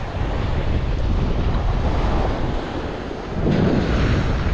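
Strong wind roars across a Gulf Coast beach with breaking surf, a steady loud rush buffeting the microphone that dips briefly and then swells again, with no voices.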